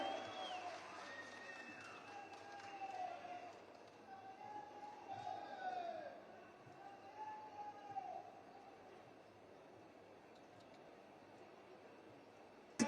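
Audience applause at a public event in Mandya district with Chief Minister Siddaramaiah, heard as a faint, distant crowd noise. A tonal, sweeping sound rises and falls above it, and the clapping fades toward the end.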